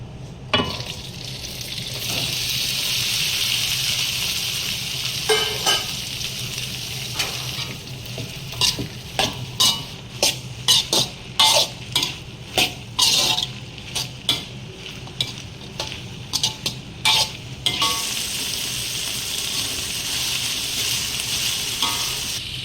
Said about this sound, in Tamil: இப்போ வெண்டைக்காயை போட்டு வதக்கிக்கலாம்.